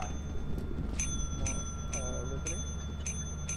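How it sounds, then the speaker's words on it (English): A ship bell in the video game Lethal Company rings in a regular series of bright, sustained strikes about every half second, over a low background hum with a faint voice and synthetic warbling. "Go ring the bell."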